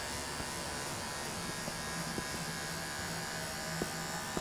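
Adjustable hair clippers fitted with a number one guard run through hair in a barbershop fade, giving a steady, soft electric buzz throughout with faint cutting crackles and no talking.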